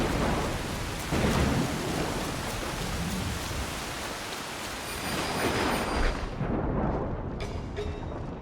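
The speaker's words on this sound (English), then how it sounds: "maybe even the sound of rain is gonna give you a bit of relief" Rain and thunder in Assassin's Creed, a steady heavy downpour with deep rolling thunder rumbles and a loud crack, constant and close throughout.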